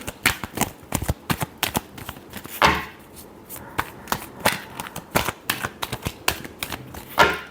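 Tarot cards being shuffled by hand, a quick run of crisp riffling flicks and slaps in irregular bursts, close and fairly loud, with no talking.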